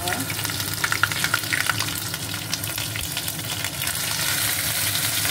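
Garlic and ginger frying in a pan give a steady, close crackling sizzle that holds alone throughout, with light stirring scrapes and no talk.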